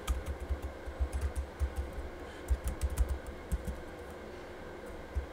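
Keys clatter on a computer keyboard in quick bursts of typing separated by short pauses, close and fairly quiet, with no voices.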